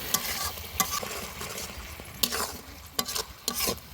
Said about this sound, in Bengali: এবার সব মশলা একসঙ্গে ভালো করে নাড়িয়ে নেব